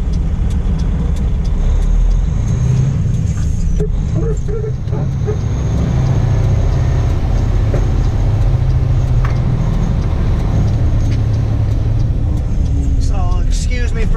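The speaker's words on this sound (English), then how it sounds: "I gotta back in off the road here." A truck backs in off the road, its loud, steady engine rumbling close throughout, with a faint beep or squeak near the end and talk running over the top.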